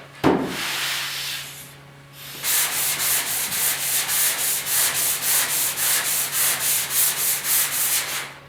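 Hand sanding on the cab of a 1956 Ford pickup: a brief scrape and pause, then a steady run of loud, rhythmic back-and-forth strokes, about two per second, close up with no talking.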